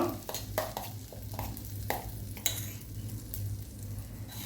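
An egg frying in a cube of butter in a pan, with a soft steady sizzle under scattered close taps and scrapes of a spoon against the pan, no talk.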